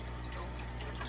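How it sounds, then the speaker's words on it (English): Water drains steadily through a DIY aquaponics overhead sump, a continuous close trickling flow over a low pump-like hum. "it constantly drains water"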